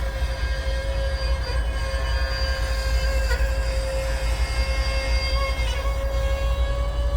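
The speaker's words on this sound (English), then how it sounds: "Listen to that brake. That set of brakes." A long grain unit train rolls past with a steady high-pitched brake squeal over a deep rumbling roar, loud and close, sustained throughout.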